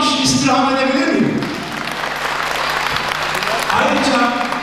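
An audience applauds the band at a charity evening for the disabled in Freistadt, Austria, a sustained loud wash of clapping between stretches of music, with a voice speaking over it.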